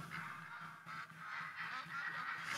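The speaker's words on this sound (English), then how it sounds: "Oh, the sounds of ducks and geese and donkeys." Geese honk and ducks call in the hunting video game The Hunter: Call of the Wild, a steady chorus of overlapping nasal honks over a constant outdoor ambience at moderate level.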